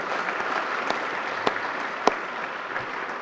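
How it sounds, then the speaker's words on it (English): Audience at a city State of the City address claps for a basketball championship, a moderate steady patter of applause with a few louder individual claps standing out. "let's clap for that"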